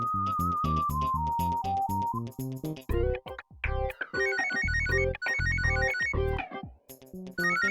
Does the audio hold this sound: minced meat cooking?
no